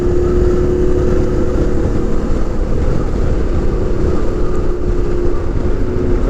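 A Yamaha Ténéré 700 motorcycle is ridden on the road, its engine a steady loud drone mixed with wind noise, with no talking.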